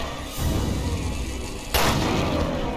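Two heavy gunshots ring out in the video game Resident Evil Revelations 2, each a loud sudden blast with a lingering rumble, spaced over a second apart against steady game background noise.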